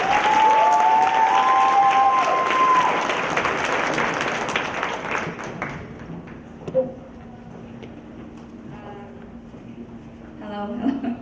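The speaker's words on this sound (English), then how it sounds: "Round of applause, please." A crowd at an evening Hmong community event bursts into loud applause with whistles, which thins out after a few seconds as a voice begins speaking over the fading claps.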